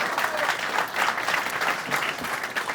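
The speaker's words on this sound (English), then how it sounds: "round of applause for Mike" Round of applause from a brewery talk audience for a Commons Brewery founder, steady dense clapping throughout, fairly close and loud, with no one speaking over it.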